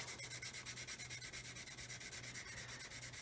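Steady, rhythmic rubbing of a plastic scale model's canopy glazing through masking tape, a quick back-and-forth scrubbing repeating about seven times a second, close and continuous with a low hum beneath.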